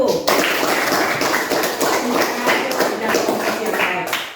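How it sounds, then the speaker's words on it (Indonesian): Junior high school class in Central Maluku claps for a student group after its presentation, brisk, loud, fairly close applause from many hands that starts abruptly and carries on evenly, with voices mixed in. "Kita berikan tepuk tangan untuk kelompok 1."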